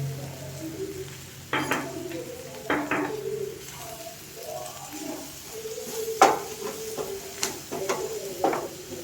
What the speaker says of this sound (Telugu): ఇలా మంచిగా ఫ్రై అయ్యేటట్టు మంచిగా వాటికి పట్టేటట్టు మనం ఫ్రై చేసుకోవాలి.